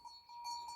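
Sheep on an off-grid farm bleat faintly and repeatedly in a thin, nasal series, distant and quiet against a still outdoor background.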